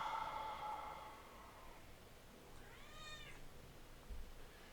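A cat gives one drawn-out meow close by and then falls quiet, heard alone against a faint hum of room noise.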